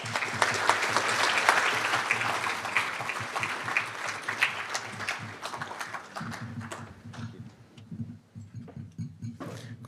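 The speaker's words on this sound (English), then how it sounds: "Let's have one more round of applause for all of our alumni award winners" An audience at an awards banquet applauds an award winner. Dense, loud clapping fills the room, then thins into scattered individual claps as it dies away.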